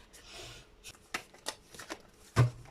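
Tarot cards shuffled by hand: soft riffling and sliding in a few separate bursts over near silence, ending in one sharper, louder snap of the deck.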